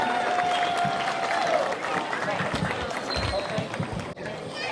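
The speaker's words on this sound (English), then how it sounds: "one more round of applause as we move on through here" A crowd at a Christmas parade in Fort Jones claps in steady, moderately loud applause from a broad area outdoors, while a voice talks over it and faint whistles rise now and then.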